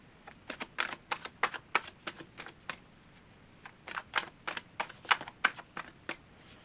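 Cards riffled and shuffled in quick bursts of crisp, fluttering clicks, two clusters separated by a short pause, close and fairly quiet.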